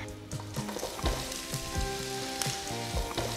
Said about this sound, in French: 3 ingrédients de base qu'on va faire revenir dans du beurre